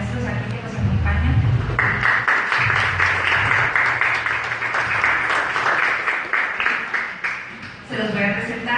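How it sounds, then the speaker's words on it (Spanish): Applause for the teachers at a book presentation, a broad burst of clapping from the audience lasting several seconds, with a voice talking briefly before it starts and again as it fades. "les pido un fuerte aplauso para los maestros aquí que nos acompañan"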